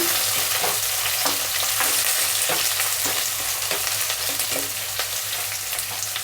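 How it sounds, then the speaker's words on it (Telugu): Curry leaves and chopped onions fry in oil in a pan with a loud, constant sizzle, and regular stirring scrapes sound every half second or so. No one talks. "ఇందులోనే కరివేపాకు ఉల్లిపాయలు కొద్దిగా వేగనిద్దాము"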